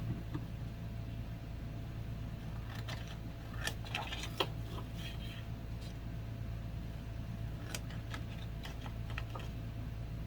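A paper photo holder being cut out makes faint, scattered snipping clicks in small clusters over a steady low hum, with no talking.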